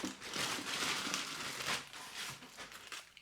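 Crinkling plastic of a mail package being opened, a close, busy rustle in several bursts over a few seconds with no talking.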